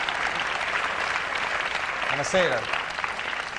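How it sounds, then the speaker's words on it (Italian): Steady, sustained applause from a television studio audience greets the Petrolini cabaret act, continuous and fairly loud, with a single voice briefly heard over it near the middle. "applauso per i Petrolini"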